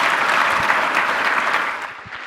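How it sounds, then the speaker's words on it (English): An audience applauding panelists after a talk, a dense, steady patter of many hands clapping that thins and fades toward the end. "Please give our panelists and Marlise a big round of applause."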